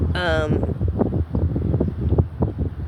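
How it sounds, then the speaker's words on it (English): Wind buffeting an outdoor microphone, a steady low rumble running through the whole stretch, with a short high-pitched tonal sound near the start and a person speaking over it. "that wind is killing me"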